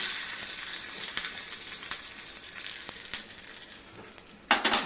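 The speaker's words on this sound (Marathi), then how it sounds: "त्याच्यामध्येच मिरच्या टाकायच्या दोन छोट्या कट करून घेतल्या त्यातच कडीपत्ता आणि ही सुरसुरीत फोडणी या कोशिंबीरवरती टाकून घ्यायची" Hot tempering of green chillies and curry leaves poured over a beetroot salad sizzles steadily and close, with a few crackling pops and a louder hiss burst near the end.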